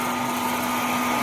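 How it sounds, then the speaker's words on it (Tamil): An oil-free frying machine runs at a busy exhibition in Vellore, a steady fan-like whir with a constant hum beneath it, close and unchanging, with no voices. "வீட்டில் ஆயில் ஊற்றி பொரிக்கிறதுலாம் ஆயிலே இல்லாமல் இந்த மிஷினில் பண்ணலாம்"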